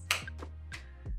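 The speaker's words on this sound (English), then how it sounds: "just clap your hands together, forward and back" Hands clapped together during a memory-improving exercise routine, with four crisp, close claps in a steady, even rhythm.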